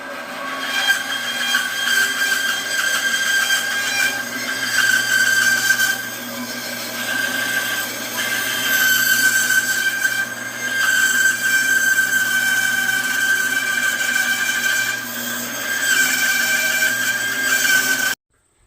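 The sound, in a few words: bandsaw cutting a curved piece of roofing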